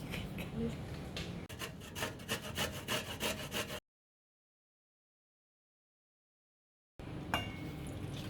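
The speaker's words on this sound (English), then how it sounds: "Using a spoon would allow for easier peeling with the ginger." A spoon scrapes the skin off fresh ginger in quick, rhythmic rasping strokes close up, a sharp scratchy sound that stops abruptly and resumes after a silent gap.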